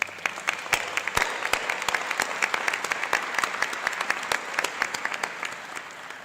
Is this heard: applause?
yes